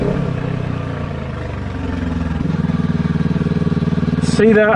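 A twin-cylinder motorcycle engine pulls steadily up a very steep climb with a loud, continuous throbbing drone, while a rider's voice talks briefly over it.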